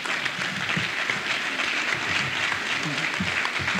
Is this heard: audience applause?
yes